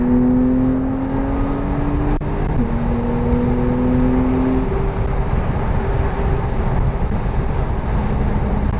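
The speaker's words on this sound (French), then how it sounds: "On entend bien le Flat 6 rageur là." A Porsche 911 991 Carrera 4S Phase 2 drives hard with its flat-six engine, heard from inside the car as a loud, steady drone whose pitch climbs, dips at a gear change and climbs again, over heavy road and wind noise.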